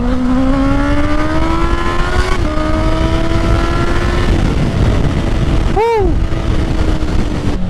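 A Honda CB650R motorcycle on a ride runs loud and steady near the microphone, its engine note rising gradually through the gears, with one quick rev blip and drop late on.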